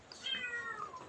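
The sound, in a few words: new kitten meowing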